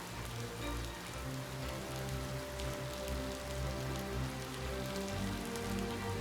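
Steady rain falls on a surface in the Ova Magica game, a continuous even patter with faint tonal music underneath and no voices.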